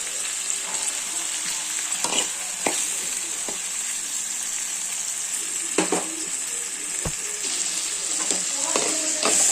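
A beans curry with turmeric and tomatoes sizzles steadily in a pan while a spoon stirs and scrapes it, with occasional clinks against the metal and faint speech in the background.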